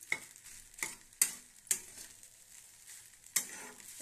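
Lemon rice being stirred in a pan, a soft faint sizzle broken by four or five sharp spoon scrapes and taps against the metal, spaced irregularly and heard close.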